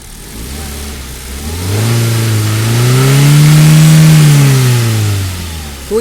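A car engine under the hood revs up as the accelerator cable is pulled by hand, rising smoothly from idle to a loud, sustained high rev before easing back down, close and clear with no talking.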